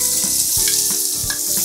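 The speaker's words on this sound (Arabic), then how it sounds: "رح نقليه لغاية ما يدبل" Onions frying in olive oil in a pot, a loud close continuous sizzle with soft rhythmic stirring scrapes.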